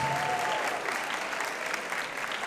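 An audience at an anime convention cosplay awards ceremony in Porto applauds a group cosplay winner, dense continuous clapping filling the hall, with a brief voice at the start.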